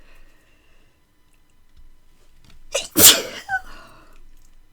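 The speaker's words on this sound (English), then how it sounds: "Going to sneeze." One sharp, close sneeze bursts out after a short intake of breath, followed by a brief sniff in an otherwise quiet room.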